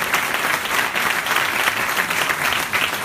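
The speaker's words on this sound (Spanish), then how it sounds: "Un aplauso para Silvia, que ya estamos sensacionales." An audience at the Best Cars awards gala applauds, a dense, steady wash of clapping from a large crowd that fills the whole moment without letting up.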